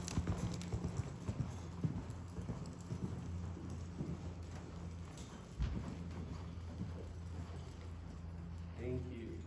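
A horse canters through a riding session, hooves thudding in a quick rhythm on the arena ground, faint and fairly distant beneath a coach's voice.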